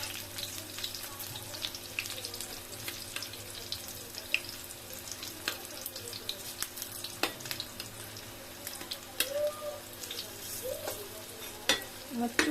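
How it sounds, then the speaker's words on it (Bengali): Lentil fritters fry in a pan of hot oil with a steady crackling sizzle, dotted with sharp pops and spatter clicks throughout and a few louder crackles near the end; no one talks. "এক পিঠ ভাজা হয়ে গেছে, এখন একটু উল্টাই দিব।"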